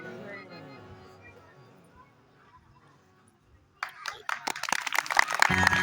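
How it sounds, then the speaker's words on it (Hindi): A crowd at a Maha Shiv Puran gathering breaks into loud, rapid clapping that swells into sustained applause, after a few seconds of talking. "जोरदार ताली"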